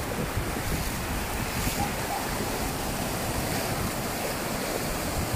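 Sea waves wash steadily onto a wild, undeveloped beach, a continuous loud roar of surf mixed with gusty wind buffeting the microphone, with no voices.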